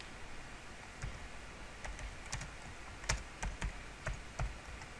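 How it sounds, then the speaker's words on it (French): Clicky keystrokes on a computer keyboard tap out text in short irregular bursts, close and fairly quiet, with a low background hiss and no talking. "là vous tapez le texte que vous voulez"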